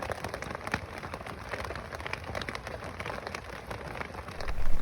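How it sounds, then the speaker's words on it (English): Rain drums on the fabric roof of an iKamper rooftop tent, a close, steady patter of many drops that swells louder toward the end, with no talking. "that sound when you're warm and dry inside a tent and that rain drumming down on top of you"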